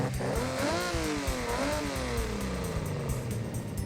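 A car engine revs in the Forza Horizon racing game, a fairly quiet rising and falling whine with gear-shift sweeps and a steady rumble underneath, no talking.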